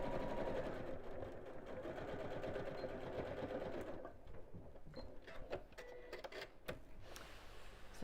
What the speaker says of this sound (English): And then we'll just sew straight across.